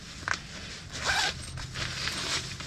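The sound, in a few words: zipper on a camping sleeping bag compartment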